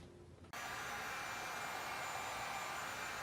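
A heat gun with its fan at maximum blasts hot air onto a telescope focuser of an Explore Scientific ED127 refractor, switching on abruptly after a quiet half second, then holding a loud, steady, broadband roaring hiss close by.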